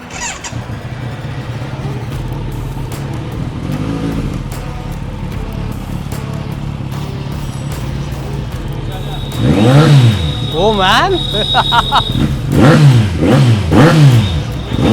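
A Kawasaki Z900 motorcycle engine idles, then revs sharply several times with rising and falling whines, a voice exclaiming briefly over the rumble.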